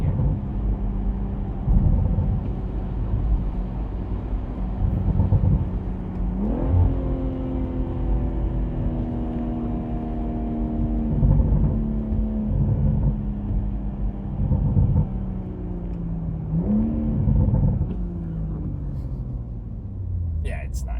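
A BMW M140i fitted with a Remus exhaust drops down into third and then second gear, its engine note rising in sharp stepped blips over a steady road rumble, with someone talking throughout.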